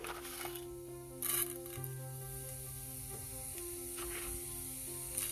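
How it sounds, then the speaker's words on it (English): Urad dal fries in a little hot oil in a pan, giving a steady, close hiss and crackle that persists with faint stirring and no talk. "We'll heat a pan, add little oil to this. We'll add urad dal."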